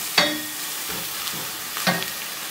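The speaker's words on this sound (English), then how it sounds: "So next we're going to add in our garlic and ginger paste," Garlic and ginger paste sizzles in a hot pan as a Bolognese is cooked, with a steady frying hiss broken by a few sharp scrapes and clatters of stirring.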